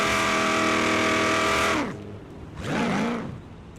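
A Chevelle SS muscle car in Forza Horizon 3 revs hard with a loud, steady engine roar that drops away abruptly, then surges again in a short rising burst, heard alone with no talk.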